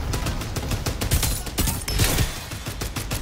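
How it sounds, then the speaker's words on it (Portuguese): Rapid bursts of gunfire from the video game Farlight 84, dense and loud, with repeated sharp shots running throughout alongside game effects. "Ah, mentira, um tiro. Um tiro, cara."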